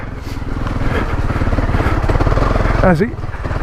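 Honda CRF250 Rally motorcycle ridden off road through mud and puddles, its single-cylinder engine chugging loudly and steadily up close, with a voice briefly heard over it near the end.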